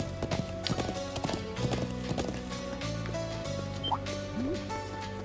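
A horse's hooves clip-clop in a steady rhythm in Trails of Cold Steel 2, close and distinct, over soft tonal background music in the game.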